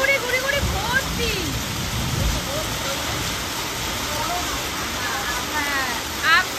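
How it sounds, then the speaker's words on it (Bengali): Hailstones come down hard outdoors in a storm, a dense loud rushing clatter mixed with rain, with people talking over it. "কত শিল পড়ছে দেখো"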